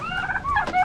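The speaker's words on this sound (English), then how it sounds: "Ah, they have turkeys." Turkeys gobbling in a Madagascar village, several bubbling calls overlapping in quick succession, fairly close and clear with no talk over them.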